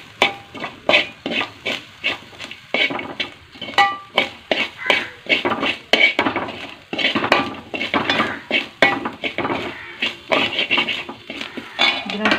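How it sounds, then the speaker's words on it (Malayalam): Grated coconut roasting in a pan for a Kerala Onam kootu curry, stirred with a metal spoon that scrapes and clinks against the pan in a quick, repeated rhythm, close and fairly loud. "ഇപ്പം തേങ്ങ ബ്രൗൺ കളർ ആകുന്നവരെ വറക്കാൻ വെച്ചിട്ടുണ്ട്"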